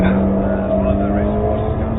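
Race car engines drone steadily on track in a TCR touring car race at Zandvoort within a racing video game, a sustained close engine hum with a steady tone and no clear passes.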